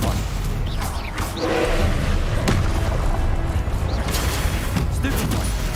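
Spells cast in a Hogwarts Legacy video game: repeated whooshing bursts and impacts, crackling blasts and sharp hits in quick succession over a dense, loud magical din.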